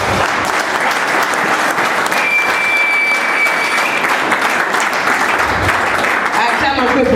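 A church congregation claps steadily and loudly throughout, a dense sustained applause with voices mixed in.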